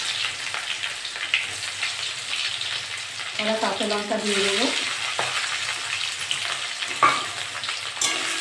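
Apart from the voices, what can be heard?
frying onion and green chilli in mustard oil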